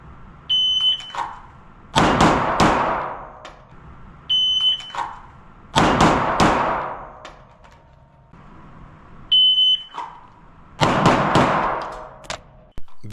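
A pistol shot timer gives short electronic beeps three times for a Mozambique drill at a 7.5-metre target, and each beep is followed by a burst of loud, close handgun shots.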